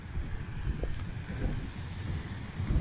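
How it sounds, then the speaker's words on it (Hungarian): Wind buffeting the microphone at a lakeshore on the Kupres plateau, a low rumbling gusty roar that swells and eases, steady and close throughout with no voices. "viszi a szél rendesen"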